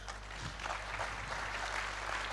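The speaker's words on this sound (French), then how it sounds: "oui, vous pouvez l'applaudir" Audience applause at an agriculture awards conference, a faint, even spread of clapping heard from a distance over a steady low hum.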